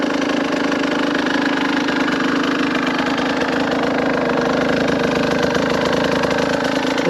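A 2022 Husqvarna TE150i two-stroke dirt bike idles close by, a loud, steady buzzing engine drone that holds an even pitch throughout with no voices over it.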